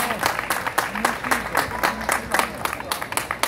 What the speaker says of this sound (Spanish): Fuertes esos aplausos,